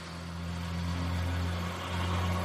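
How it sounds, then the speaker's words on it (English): Continuous low traffic rumble with a steady hiss of tires on wet road, moderately loud and unbroken, no voices. "That's what I hear when I listen to the cars driving on the wet pavement now."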